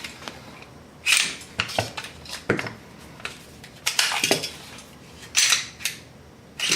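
Two Smith & Wesson M&P pistols, an original and an M2.0, being handled and checked unloaded: sharp metallic clacks and slide racks scattered irregularly, fairly close and with no one speaking.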